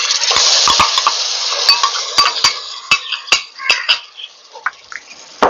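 Ginger, garlic and green chilli paste is stirred in a pan: a spoon scrapes and clicks against the metal in irregular sharp taps over a soft sizzle, close and fairly loud.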